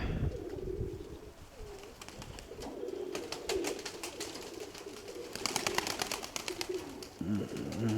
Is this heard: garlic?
no